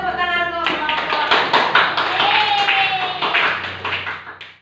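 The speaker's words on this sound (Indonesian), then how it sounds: "kita kasih tepuk tangan untuk kelompok" Students in a mathematics classroom clap for a presenting group, a quick burst of close, uneven hand claps that rises and then tapers off, following a brief voice at the start.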